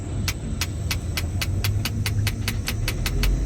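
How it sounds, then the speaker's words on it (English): Excavator with steel tracks grinding over rocks on a construction site, a steady loud engine drone with regular metallic clanks roughly every third of a second, heard continuously from a distance below. "You can hear that hoe moving around down there. That thing is loud, man, when you get those tracks on the rocks."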